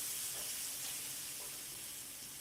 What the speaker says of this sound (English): Hear a good sizzle, that's what you want to hear.